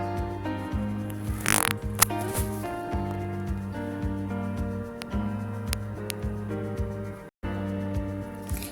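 Ghee is mixed by hand into roti dough ingredients in a bowl, giving soft, irregular squishing and rustling close by, with tonal background sound underneath.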